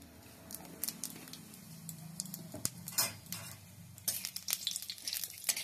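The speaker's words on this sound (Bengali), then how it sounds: "এই তেলেই দিয়ে দিচ্ছি তেজপাতা," Bay leaf, dried chilli and five-spice seeds hit hot oil, giving a close sizzle punctuated by bright pops, crackles and clinks of a utensil against the pan, growing busier toward the end.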